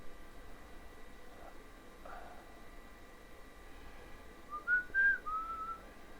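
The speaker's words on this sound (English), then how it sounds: "Don't know why I started whistling then" A person whistles a short, rising and falling tune while wiring a video cable for a Commodore C64 breadbin computer. The whistle is clear and brief near the end, over a quiet room background.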